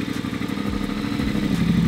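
Custom wide-wheel bobber motorcycle with its valved exhaust open, making a deep, loud, throbbing engine note that pulses steadily up close for a couple of seconds.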